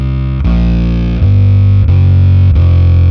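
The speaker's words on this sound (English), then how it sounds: "You can kind of get this sort of synth bass sound going on" Loud, fuzzy bass guitar notes through octave and fuzz pedals with a thick synth-like buzz, four sustained notes plucked in steady succession rising to a C, with heavy distortion and no voices.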